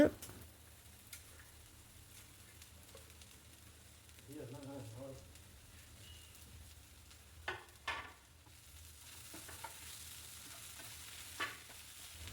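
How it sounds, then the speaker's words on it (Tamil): Chopped okra and onions sauté in a pan, with a soft low sizzle and occasional spatula scrapes against the metal, quiet and close, and a faint voice briefly in the background. "வெண்டைக்காவை இந்த மாதிரி குட்டி குட்டியாக கட் பண்ணி அதையுமே சேர்த்து நல்லா வதக்கி விட்டுருங்க."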